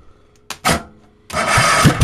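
An engine on a cold start gives a few separate sputtering coughs, then catches and runs with a rough, low idle that keeps thumping unevenly.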